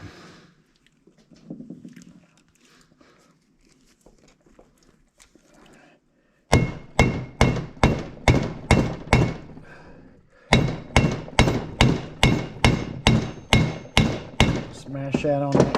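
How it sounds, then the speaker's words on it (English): Rhythmic metallic hammer strikes, loud and close, hammering a lock down onto a cable for a mink, muskrat and raccoon trap set, a steady series of sharp blows that pauses briefly then resumes, after a quiet stretch of faint background noise. "and hammer it down."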